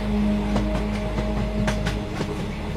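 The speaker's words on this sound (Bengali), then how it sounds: "হঠাৎ ঘুম ভাঙতেই রামু দেখল ট্রেনটা চলতে শুরু করেছে" A train slowly pulling away with a low rumble and a steady hum, soft clacks of the wheels spaced irregularly over the rails, close and continuous with no voices.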